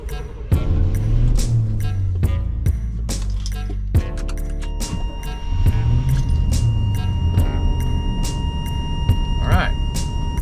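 A 1984 GTI engine cranks and catches, its starter whirring in a low sweep before the motor settles into a steady idle hum, close by.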